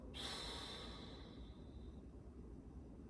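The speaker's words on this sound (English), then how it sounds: "Hold it for a second and then exhale." A single slow exhale during a relaxation breathing exercise, soft and close, a breathy rush that fades out over about two seconds, then quiet.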